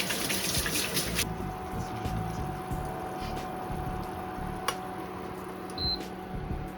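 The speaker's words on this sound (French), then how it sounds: "Je vais laver les mains." Water runs steadily from a kitchen tap as hands are washed under it, close up, with a few faint clicks and knocks at the sink and no talking.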